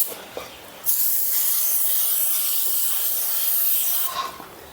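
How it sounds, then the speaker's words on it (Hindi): A spray bottle hisses in one long, steady burst onto a farm animal's skin, close and fairly loud, with faint rustling before and after and no talking. "इस तरह से स्प्रे किया जाता है।"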